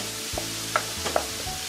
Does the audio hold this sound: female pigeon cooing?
no